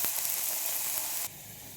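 Green chillies tempering in hot oil, a steady close hissing sizzle that softens slightly near the end, with no voices.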